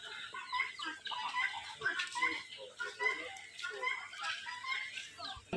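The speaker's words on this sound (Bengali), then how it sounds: "আবার এখানে অনেকগুলো মুরগি দেখা যাচ্ছে, পাহাড়ি মুরগি যেগুলা।" A flock of hill chickens and local country hens in a safari park in Chittagong clucks and murmurs continuously, several birds overlapping at moderate distance in a fairly quiet outdoor setting.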